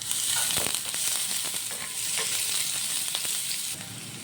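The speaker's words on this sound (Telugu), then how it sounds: "పచ్చిమిర్చి, కొంచెం ఫ్రై అవుతాం." Green chillies and onions frying in a pan for gobi fried rice, a loud continuous close-up sizzle with bursts of crackling and stirring scrapes, no voices.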